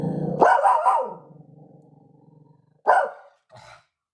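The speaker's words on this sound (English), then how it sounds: "Such a good guard dog." A guard dog barks and growls up close in a loud burst, then a lower rumbling growl drags on before two shorter, sharper barks follow.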